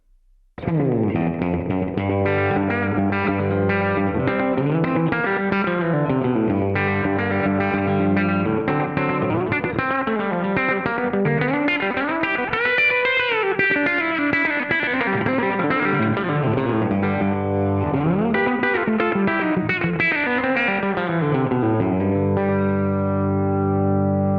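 Ciari electric guitar plays sustained, even-leveled notes and bends through a compressor and slapback delay, a short, quick echo trailing each note, no voices.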